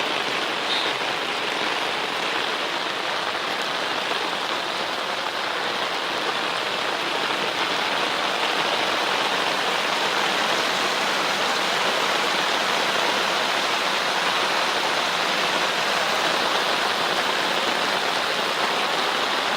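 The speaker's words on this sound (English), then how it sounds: "Okay, it's pouring out." Heavy rain pours down in a steady, dense roar, with water running off and rushing around a drainage spot. It is loud and unbroken throughout, with no voices.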